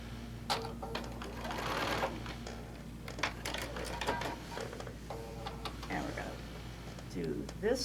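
Sewing machine stitching a quilt tack while a person talks nearby, with quiet, irregular ticking and clicking under the voice.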